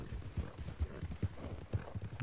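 A horse's hooves clip-clop in Red Dead Redemption 2, a steady rhythmic trot of muffled thuds, moderately close and fairly quiet over faint background ambience.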